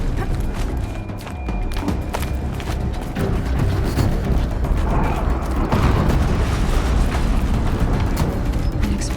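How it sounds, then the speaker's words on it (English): Explosions in the 2017 video game Horizon Zero Dawn, a dense, sustained rumble of booming blasts that builds and swells loudly throughout, with no clear gaps between impacts. "An explosion."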